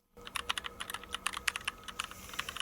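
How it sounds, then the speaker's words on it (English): Keyboard typing used as a sound effect: a run of quick, crisp key clicks in an uneven rhythm, close and clear against a quiet background, starting abruptly and continuing with no voices. "The first sound effect I'm going to add is the typing sound"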